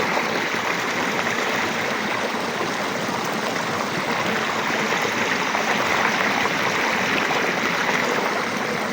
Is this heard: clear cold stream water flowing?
yes